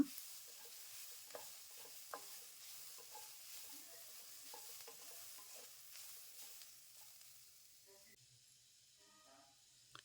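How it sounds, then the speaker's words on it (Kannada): Coriander leaves frying in a pan for radish chutney, giving a faint, steady sizzle with occasional soft stirring scrapes, close but quiet. "ಕೊತ್ತಂಬರಿ ಸೊಪ್ಪು ಹಾಕಿ ಒಂದು ನಿಮಿಷ ಇದನ್ನು ಫ್ರೈ ಮಾಡ್ಕೊಳ್ಳೋಣ"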